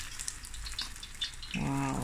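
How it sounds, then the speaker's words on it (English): Soft, steady sizzling of fish frying in oil in a pan, with a brief louder burst of bubbling near the end. "Okay, so this is going to fry away."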